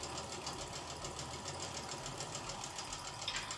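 Sewing machine running steadily as it stitches pinned quilt seams for a cotton quilt, a continuous even mechanical whir with no talk over it.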